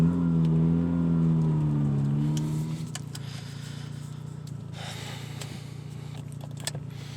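1990 Mazda RX-7 FC with a rotary engine accelerating, a smooth buzzing harmonic whine climbing in pitch, then settling into a steady lower cruising hum with faint road noise.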